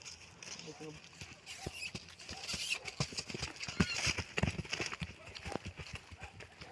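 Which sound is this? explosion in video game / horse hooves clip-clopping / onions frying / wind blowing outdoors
horse hooves clip-clopping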